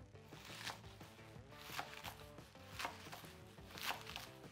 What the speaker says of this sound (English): we're just gonna kind of roughly chop it